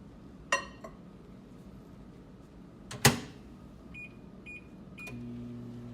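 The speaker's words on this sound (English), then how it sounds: "we're going to microwave for 30 seconds" A laboratory microwave oven heats an acid-fast (Ziehl-Neelsen) stained slide: two sharp door or latch clunks, a few short electronic beeps, then the steady low hum of the oven starting to run.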